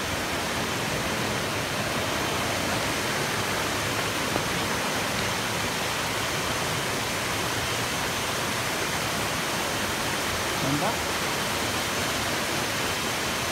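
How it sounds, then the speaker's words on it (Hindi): Sirki Waterfall in the mountains of Arunachal Pradesh roars as a steady, dense broadband rush of falling water, loud and unbroken, with no voices. "ये सिरकी वाटरफॉल"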